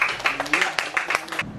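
Classroom applause for a student rises briefly as a group of pupils clap quickly together, close by, with voices talking over the clapping.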